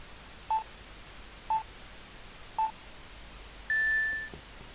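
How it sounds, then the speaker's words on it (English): Three short, evenly spaced electronic keypad beeps from a Phoenix Wright game, followed by a longer, sustained tone, clear and alone against a quiet background. "Beeps."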